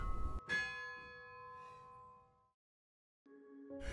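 Church bells ring out in separate resonant strikes, each tone lingering and fading into a brief silence before the next toll, moderately distant.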